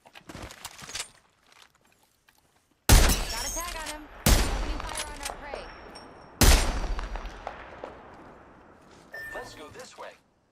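Loud gunfire in the battle royale game Apex Legends: three sharp heavy shots at spaced intervals with echoing decay, plus scattered quieter cracks before and after, and a voice speaking briefly.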